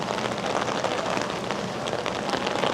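Steady rain patters loudly and close on an evening walk through the city streets of BGC. The dense hiss carries on without a break.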